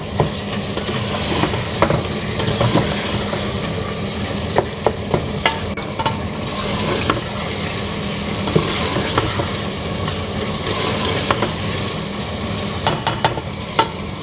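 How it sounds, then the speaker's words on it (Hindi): Meat sizzles and fries in masala in a pan with steady crackling, punctuated by occasional scraping and stirring clatters, no voices. "गोश्त डाल कर तो 5 मिनट इसकी बुनाई करनी है अच्छी तरह।"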